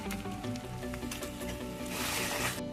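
Ginger garlic paste fries in hot oil in a pan while Hyderabadi chicken masala is prepared, a continuous crackling sizzle with stirring scrapes and a louder hissing burst near the end.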